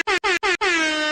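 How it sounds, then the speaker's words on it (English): An air horn sound effect blasts three short honks in quick succession, followed by a longer sustained blare, loud and alone. "Let me honk the horn."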